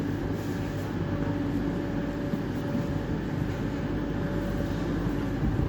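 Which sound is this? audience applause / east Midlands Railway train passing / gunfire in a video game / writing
east Midlands Railway train passing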